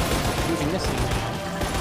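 Rapid gunfire at a creature in the Xbox 360 game Lost Planet, a loud dense fusillade of shots throughout the short stretch with a voice faintly under it.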